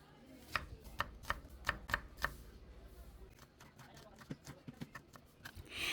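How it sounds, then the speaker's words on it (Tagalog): Three garlic cloves and a medium onion chopped into small pieces on a board: a run of sharp, evenly spaced knife taps, then quicker, softer chopping, close and without talk. "hiwain lang natin ng maliliit ang 3 garlic at isang 1 medium size ng onion"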